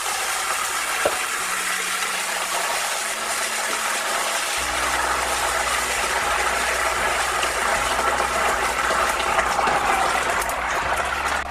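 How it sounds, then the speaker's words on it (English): Steady loud hiss and sizzle of water steaming green beans in a hot pan, continuous throughout with a low hum underneath. "that's going to steam those green beans off"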